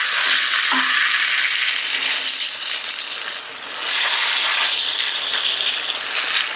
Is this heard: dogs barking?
no